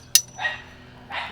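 A dog gives a couple of short barks and yips at a backyard beef smoking session, one sharp bark followed by softer yelps, moderately near.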